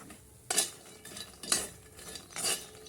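Makhana (fox nuts) shallow frying in a pan while being stirred, three distinct scraping, rattling strokes about a second apart over a faint sizzle, with no talking.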